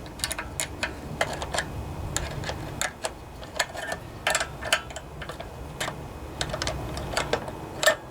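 Sharp, irregular ratchet clicks and small metallic ticks of a wrench working the four gas tank bolts on a Craftsman edger, close and crisp over a low hum, with no talk.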